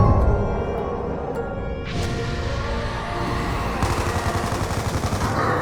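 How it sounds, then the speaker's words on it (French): Dense, continuous gunfire from the zombie game Call of Duty Mob of the Dead, with rapid bursts and booms layered over a steady loud game mix, and no talk. "On doit se tirer dessus en vitesse!"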